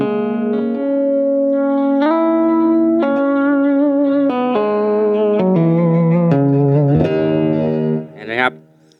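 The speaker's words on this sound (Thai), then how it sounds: "อันนี้คือเสียงคลีนนะเสียงคลีนแต่ดูซัดเทนไหม" A clean electric guitar, a Schecter Damien Platinum 6 FR-S, plays sustained single notes that ring out long, each new pitch sliding or stepping in, with a brief bent flourish at the end.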